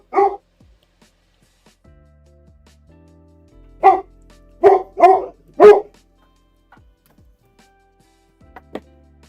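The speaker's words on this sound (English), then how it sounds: "why are you barking?" A dog barks indoors in a home workshop: one sharp bark, then a pause, a cluster of four loud barks close together, and a fainter yip at the end, with quiet gaps between.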